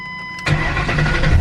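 A Ford Mustang with a newly installed Walbro 400 fuel pump cranks and starts, the fuel pump's hum giving way to the engine catching and settling into a loud, close idle rumble.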